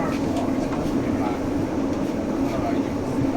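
A London Northwestern Railway train runs between Harrow and Wealdstone and London Euston, its steady rumble continuous under an onboard announcement voice.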